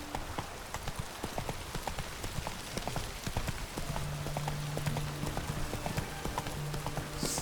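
A horse trots in The Witcher 3, its hooves making a steady, fairly close clip-clop rhythm over a continuous soft ambient wash, with a low tone humming briefly underneath.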